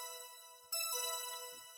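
A bright melodic tone repeats with echoing delay trails that overlap and fade, quiet and alone.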